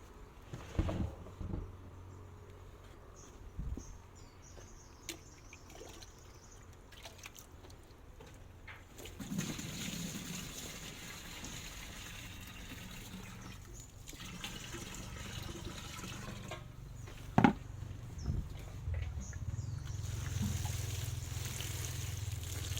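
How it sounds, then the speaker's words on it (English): Water is poured into a worm bin kept inside a greenhouse, giving soft trickling and dripping with intermittent splashes and a few brief knocks, fairly quiet throughout. "What we can do right now is just to add a little bit of water."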